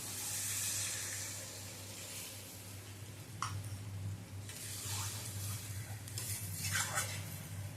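Masala for an egg, potato and poppy seed curry is stirred after water goes into the pan, with a low steady hiss of cooking beneath a few brief wet scraping strokes, quiet and close.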